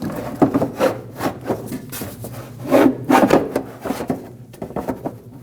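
A plastic windshield washer fluid tank on a 2005-2021 Nissan Frontier slides backwards into place, giving a series of close scraping, rubbing knocks and scuffs in uneven bursts, with no talking.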